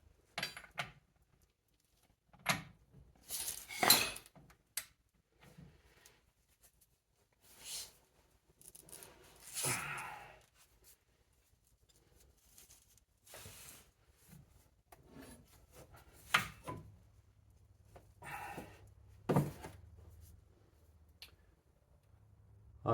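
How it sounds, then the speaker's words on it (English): Wheel bearing nut on a 2006 Volkswagen New Beetle loosened with a bar, heard as scattered scraping, rasping and clicking bursts separated by quiet gaps, fairly close and faint. "I'm going to loosen the nut half a turn."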